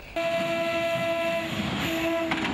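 A train on Nigeria's rail system sounds a sustained two-tone horn, loud and steady, breaking off briefly before blaring again over rumbling background noise.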